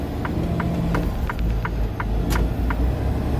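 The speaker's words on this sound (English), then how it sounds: "Let's wait on this car." A car on a street beside a milk facility gives a steady low rumble that swells slightly as it goes by, with a regular ticking, like a turn signal, pulsing over it.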